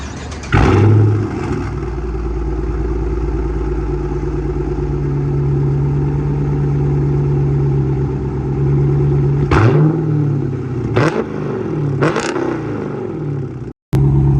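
A stock Chrysler 300 sedan fitted with wide-body wheels idles with a deep, steady engine rumble, then gets blipped in three short, sharp revs toward the end, close to the car, with no talking.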